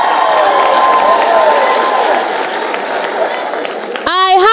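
Dense crowd clapping and cheering at a comedy performance, steady and close, with a person's voice rising sharply over the noise at the end.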